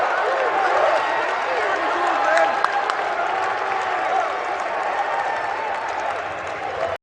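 A basketball arena crowd roars during a timeout at a college game between Minnesota State and Augustana, a loud sustained wash of cheering and noise with scattered claps.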